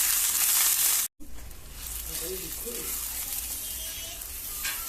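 Shrimp hitting a hot pan set off a loud hiss, followed after a momentary cut by a steady, bright sizzle of frying that continues close up to the end, with faint scraping.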